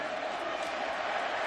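A dense stadium crowd roars steadily at a Mississippi versus Auburn college football game, a continuous wash of cheering with no breaks over the short stretch.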